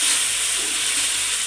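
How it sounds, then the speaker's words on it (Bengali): Cumin paste, ground coriander and other spices frying in hot oil in a pan, a steady close sizzling hiss throughout without a break. "আমি কিন্তু এগুলো একটু ভাজা ভাজা করে নেব"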